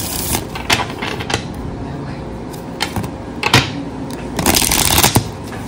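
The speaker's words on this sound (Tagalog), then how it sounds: "Balasahin muna po natin." Oracle cards are shuffled by hand in repeated quick riffling bursts of papery flicks and taps, close and crisp, with someone speaking softly between shuffles.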